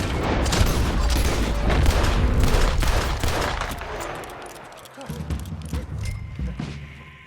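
Rapid gunfire in a Red Dead Redemption 2 mission: dense bursts of shots and booms that thin out toward the end, where a few thuds and footsteps remain.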